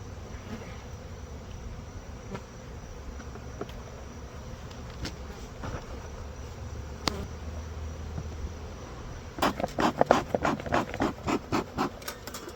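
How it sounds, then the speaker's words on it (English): Steady insect buzzing of many honey bees around a hive fills the background throughout, with a burst of sharper tapping and scraping near the end. "the bees are all over the front"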